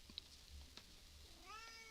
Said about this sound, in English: I got the cat screaming because there's no food.